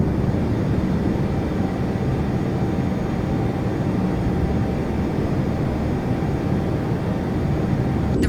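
Airbus A320 airliner engines roar steadily at takeoff power, a loud, continuous broadband rumble heard from inside the aircraft with no talking over it.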